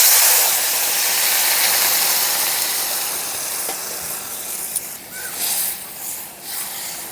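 Water hits a hot pan of frying potato and pointed gourd, giving a loud rushing hiss of steam that slowly eases into a softer bubbling sizzle.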